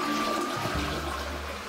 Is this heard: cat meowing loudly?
no